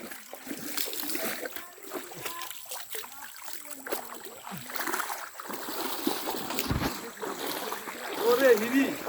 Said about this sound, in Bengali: এটা হচ্ছে লিখিয়ং ঝর্ণার পানি এটা।